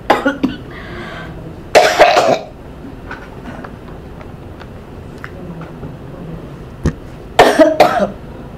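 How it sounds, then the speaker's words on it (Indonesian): A person coughs several times in short harsh bursts, with two stronger fits separated by quiet, close to the microphone. "saya nih batuk"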